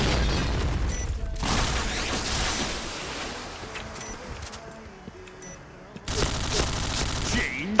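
Explosions and bursts of gunfire in a video game, loud blasts and rapid shots that rise, fall away, then burst again near the end.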